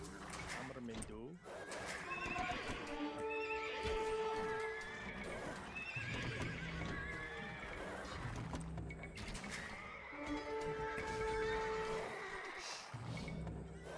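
Horses in the Age of Empires 2 strategy game neigh and whinny loudly in repeated bursts, with clip-clop hooves beneath, while someone talks over the game sounds.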